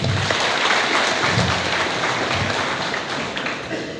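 Audience applause at a family gathering, a steady wash of many hands clapping at moderate volume for about four seconds, with no voices over it.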